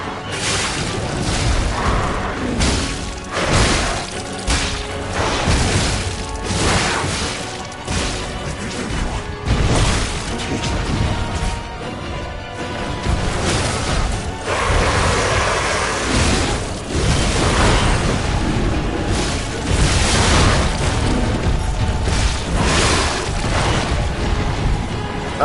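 Fire attack explosions in the video game Lies of P, a long run of loud booms, crashes and whooshing blasts that fire one after another in uneven bursts, dense and close with no pause.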